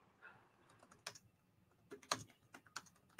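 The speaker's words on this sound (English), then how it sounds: "Let me just finish typing this." Quick, irregular clicks of fingers typing on a computer keyboard, fairly close and quiet, with bursts and short pauses and a few sharper key strikes.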